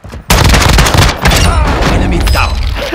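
Heavy, loud gunfire in Call of Duty: Modern Warfare II, a sudden burst followed by sustained rapid shots and a second volley of bangs, with a fading tail at the end.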